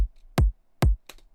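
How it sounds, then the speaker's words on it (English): Two punchy Wither kick drum hits from a bass house production preset, each a dry booming thump with a sharp click, spaced evenly with near silence between them, followed by a brief softer tail. "So this is the, again, Wither kick"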